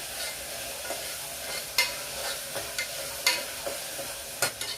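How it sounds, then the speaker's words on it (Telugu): Ginger garlic paste sizzles steadily in a pan for Telangana-style gongura mutton, broken by several sharp scrapes and clicks of a spoon stirring it. "ఈ అల్లం వెల్లుల్లి పేస్ట్ కూడా కొంచెం వేగనివ్వాలి మనం, పచ్చివాసన పోయే వరకు వేసుకుందాము."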